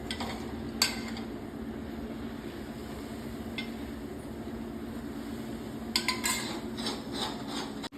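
Mysore pak mixture bubbles in a pan as ghee is poured in and stirred, a steady frothy hiss broken by occasional sharp clinks and scrapes of a metal spoon against the pan, no talking.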